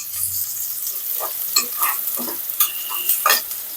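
Radish bhaji (mula bhaji) sizzling in a pan while being stirred, with soft steady frying hiss and a few scraping clinks of the utensil against the pan, close and without speech.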